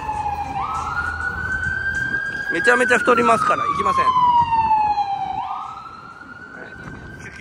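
An ambulance siren wails up and down loudly on a street in Waikiki, passing close before fading at the end, while a person talks over it.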